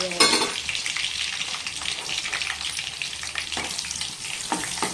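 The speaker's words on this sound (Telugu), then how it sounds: "ఇది మంచిగా వేగనియాలండి." Red and green chillies frying in hot oil, a steady close sizzle with brief stirring scrapes throughout, without talk.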